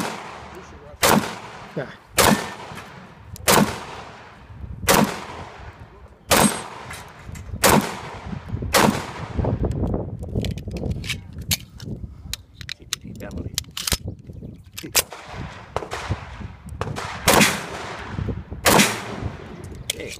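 Pistol shots at an IDPA shooting match stage, loud sharp cracks in spaced pairs and quick strings with a busier stretch in the middle, a voice briefly heard.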